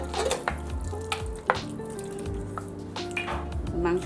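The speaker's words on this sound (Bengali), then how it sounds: "মাংসটা ঢেলে দিব" Chicken pieces for biryani are poured into a pan and stirred, giving a close, fairly soft sizzle with scraping and squishing stirs and a few clanks of utensil on pan.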